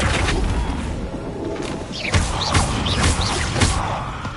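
Spellcasting in Hogwarts Legacy, with the Flipendo spell cast in combat: a rapid series of whooshing bursts and deep thumps, loud and close, with sweeping swishes repeating about every half second.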